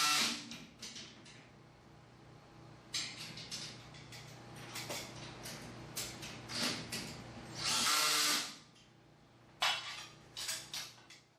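Screws driven into corner brackets of a Fleximount garage rack with a power drill, short whirring bursts of varying length separated by pauses and light metallic clinks, close and alone.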